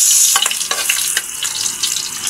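Chopped garlic sizzles steadily in hot oil in a pan, a dense, close crackle with a few brief scraping stirs breaking through.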